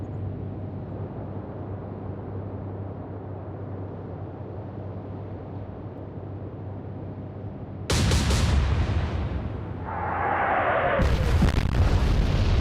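Warship in World of Warships blowing up under gunfire: a steady engine hum cut by a loud, sudden explosive blast, a ringing decay, then another heavy boom, near and prominent.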